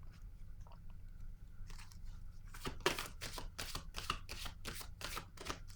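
Cards drawn from a tarot deck, a quick series of close, crisp shuffling and snapping card sounds that thicken into a rapid rhythmic run in the second half, with no talk.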